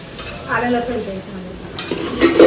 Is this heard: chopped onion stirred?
yes